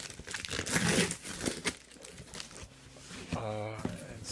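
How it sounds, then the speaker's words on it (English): A great big cardboard box of mail torn open, with crinkling and ripping bursts up close, then a short zipper-like rasp, while a person talks. "Let's just tear this thing open."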